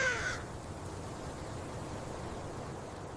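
A crow gives a single harsh caw at the very start, loud and close, then leaves a long stretch of steady outdoor hiss and faint rustle.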